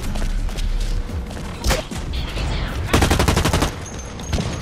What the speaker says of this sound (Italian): Sparano tutti, non so che sparano perché mi vedo.